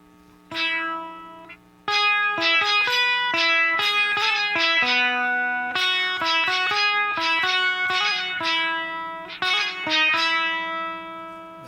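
Electric guitar played through an effects unit program set for a bagpipe-like tone, a droning low note held under a run of bright, reedy, distorted melody notes, loud and close, with a brief gap near the start.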